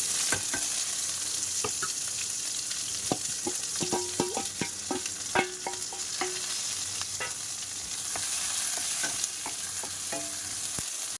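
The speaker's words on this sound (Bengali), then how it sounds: "কড়ার তেলটা গরম হয়ে গেছে এবার পেঁয়াজ কুচি আর কাঁচা লঙ্কা দিয়ে দেবো" Chopped onion and green chili fry in hot oil in a wok, giving a constant close sizzle broken by frequent clinks and scrapes of a spatula stirring, with no voices.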